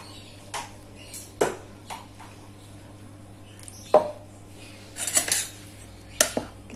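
Utensils clink against a pan while rice flour batter mixed with water is stirred, giving sharp scattered metallic taps between quiet pauses.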